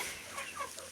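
Chickens clucking in a farmyard where ducks and turkeys are also kept, a few short, faint clucks and calls in quick succession.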